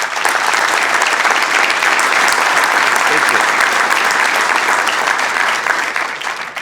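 Sustained applause from the audience at a Sacramento city council meeting, a dense, loud, even clapping that carries on for several seconds without a break.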